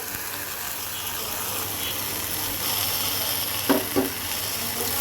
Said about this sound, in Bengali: এই আমি দিয়ে দিলাম ভেজে রাখা মাছটা